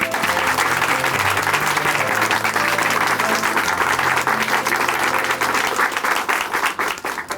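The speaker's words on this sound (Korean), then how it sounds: "앞으로도 형제님의 귀한 사역을 함께 박수로 응원해 드리도록 하겠습니다." A church congregation applauds steadily for several seconds, dense clapping that tapers slightly toward the end.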